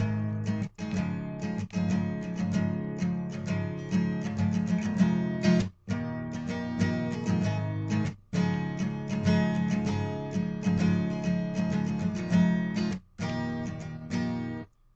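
Guitar strumming the chord progression of a song, rich sustained chords rising and falling in a steady loop with brief breaks between phrases, alone and no talking.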